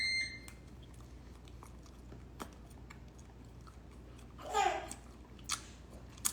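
Bites and chewing of a low-carb tortilla gordita, a cheesy gordita crunch, come as a few quiet, crisp crunches about two-thirds of the way in over faint room tone, with no talking.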